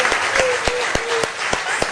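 Steady applause from a studio audience on a Turkish news broadcast, a continuous wash of clapping with a few louder individual claps, while a person talks softly underneath.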